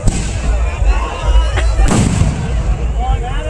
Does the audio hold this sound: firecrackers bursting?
yes